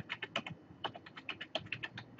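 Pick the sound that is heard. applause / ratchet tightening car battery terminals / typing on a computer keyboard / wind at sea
typing on a computer keyboard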